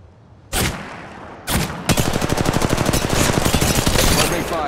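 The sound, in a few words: gunfire in the video game Apex Legends Mobile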